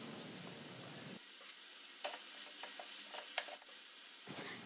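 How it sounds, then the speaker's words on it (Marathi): Tomato and coriander sautéing in a pan, a steady close sizzle with scattered scraping stir clicks from a spatula, no voices. "आता यामध्ये टोमॅटो घालून घेत आहे आणि थोडी कोथिंबीर घालून घेऊ। याला चांगलं परतून घेऊया।"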